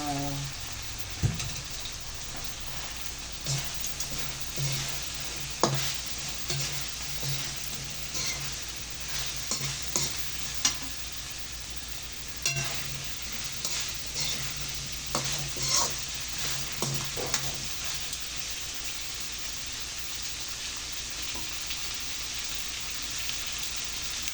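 Sliced string beans stir-frying in a hot pan, a steady broadband sizzle with repeated scraping stirs of a utensil throughout, close and continuous, with no talk.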